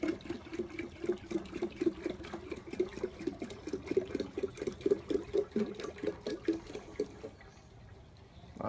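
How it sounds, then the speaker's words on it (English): Water pours and gurgles into a kombucha jar in rapid rhythmic glugs, close and steady for several seconds before stopping. "So let me add the water"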